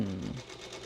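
A Singer Featherweight sewing machine runs briefly with a soft mechanical whir and hum, fairly quiet and close.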